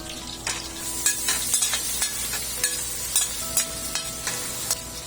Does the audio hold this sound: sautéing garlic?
yes